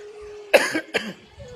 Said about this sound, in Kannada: ಒಂದು ಕ್ಷಣ ಪ್ರವಚನಕ್ಕೆ ವ್ಯತ್ಯಯ ಆಯಿತು, ಕೆಮ್ಮು ಬಂತು